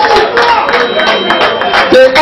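A loud crowd claps and cheers in a steady wash of applause lasting the whole moment, with a few voices rising above it, at a live music show.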